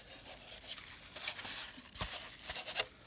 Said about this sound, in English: a plasticky kind of sandwich bag with my finger in it like this. And rubbing the cyano,